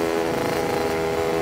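A Lambretta scooter engine fitted with a SIP Nordspeed exhaust, revving hard up a steep hill as a loud, steady, buzzing two-stroke drone that runs unbroken from start to finish.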